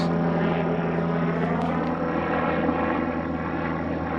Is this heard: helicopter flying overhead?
yes